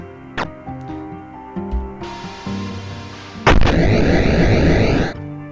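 A bomb blows up in a video game, with a sudden loud burst followed by about two seconds of dense crackling blast noise that cuts off abruptly, after earlier game tones and thumps.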